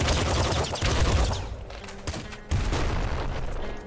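Rapid weapon fire from Nuclear Throne rattles in fast bursts, loud and close, with a sharper blast partway through and scattered impacts as the shooting continues.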